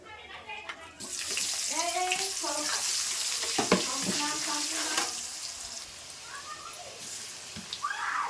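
Onions go into a pan of frying potatoes with cumin and dried chilli, setting off a steady, close sizzle that swells after the first second and runs on, with a voice talking over it.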